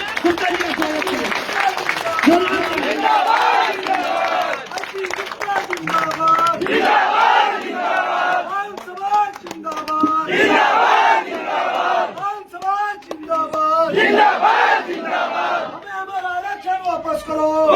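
A large crowd at a protest rally applauds, cheers and shouts loudly in waves, welcoming a speaker, with voices chanting and calling out throughout.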